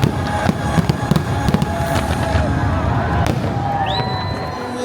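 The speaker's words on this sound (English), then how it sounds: "I have never seen a fireworks show like that before." The Luminous fireworks show at EPCOT at night, with a steady dense crackle and a run of sharp bursts and pops, plus a rising whistle near the end, over a murmuring crowd.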